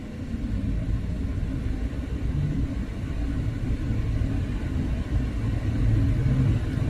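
Cargo tricycle engine on a Manila road heard as a steady low rumble and mid-pitched motor drone, close by and continuous, with traffic noise and no talk.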